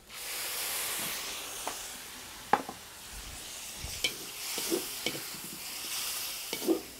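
Beef steak marinade in a pan over an outdoor cooking fire gives a soft, steady sizzle, with occasional clinks and stirring scrapes, faint and close up.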